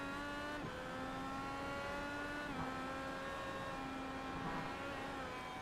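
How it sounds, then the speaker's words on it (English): IndyCar engine in a racing video game at Germany's circuit, a steady high-pitched harmonic whine holding on throttle with brief dips at gear changes, loud and continuous with no talk. "I really want to listen to his engine sounds if he's saving fuel"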